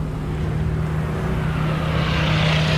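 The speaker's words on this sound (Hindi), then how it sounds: "टैंक कमांडर की आंखें ऊपर देखती हैं जब 2 P-47 फाइटर बादलों से नीचे गिरते हैं।" Two American P-47 fighter planes dive down from the clouds, a loud, continuous propeller-engine roar that swells and rises in pitch over a few seconds.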